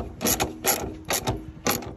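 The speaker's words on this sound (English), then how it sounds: "So I use the 9/16 socket set there to tighten it up there." Socket wrench ratchet tightening a nut while fitting a back-up camera on a Kubota KX057-5 excavator, four short bursts of quick clicking at a steady pace, close and fairly quiet.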